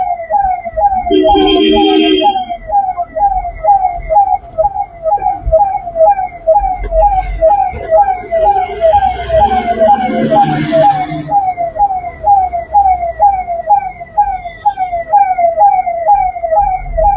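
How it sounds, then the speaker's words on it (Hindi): A loud ambulance siren wails in a steady, rapidly repeating cycle throughout, with engine rumble and occasional voices beneath it, in Bhiwandi, India. "देखो सायरन की वैल्यू"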